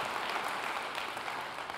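An audience at a fundraising event claps in a soft, steady, distant wash of applause with no voices over it.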